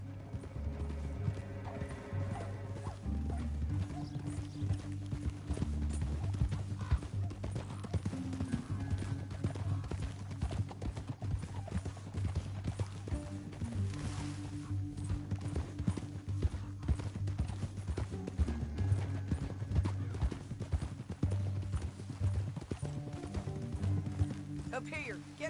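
Horse hooves in Red Dead Redemption 2, a continuous rhythmic clip-clop of riding horses under a low game soundtrack, with occasional whinnies and voices talking over it.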